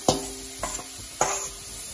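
Washed, cut dried fish (maasi) roasting in a pan, heard as three distinct scraping stirs against the pan over a faint sizzle, fairly quiet and close.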